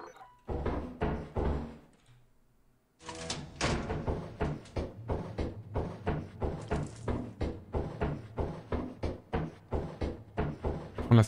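A door being worked in the horror co-op game Lethal Company, a run of rhythmic wooden thunks and knocks that repeats steadily and sounds close by.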